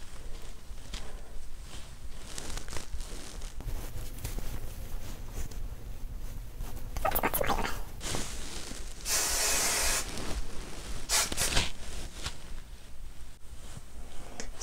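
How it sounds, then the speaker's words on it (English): Hairspray from an aerosol can hisses in one steady burst of about a second while a woman's 1980s-style hair is styled, with shorter spray-like bursts just before and after, amid faint rustling. "Some hairspray."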